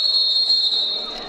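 A referee blows a whistle at an under-21 football match in Aprilia, Italy, a single long shrill blast held steady for over a second.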